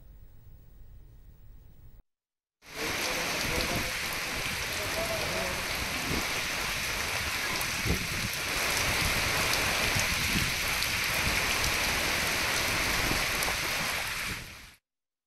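Heavy rain pours down during flooding in a steady, loud, dense roar that starts after a brief quiet and then cuts off, with no voices heard.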